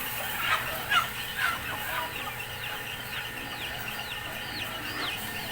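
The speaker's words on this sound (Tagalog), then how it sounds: "may mga manok din dyan, oh." Several chickens cluck and squawk in short bursts close by on a farm, over steady background noise with no talking.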